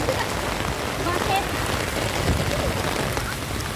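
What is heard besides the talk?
heavy rain falling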